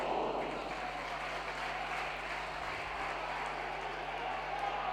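Applause at a League Cup football match between Dundee and Aberdeen, a steady wash of clapping from the stadium crowd that lasts the whole stretch at moderate loudness, with no clear talk over it.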